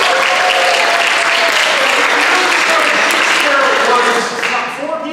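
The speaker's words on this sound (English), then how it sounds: "Can I get a round of applause for all of our brave volunteers?" An audience at a spring revue gives a loud, sustained round of applause for the brave volunteers, continuous dense clapping with some voices in the mix, tapering slightly near the end.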